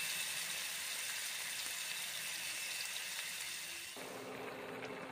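Ground spice paste fries in a pan after whole cumin and three dried red chillies were heated, giving a steady broadband sizzle that runs throughout and eases slightly near the end.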